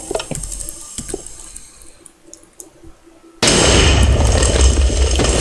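A Minecraft super cannon fires on the final shot after a countdown, bursting into a loud, sustained broadband roar that holds steady to the end after a quieter stretch of faint clicks.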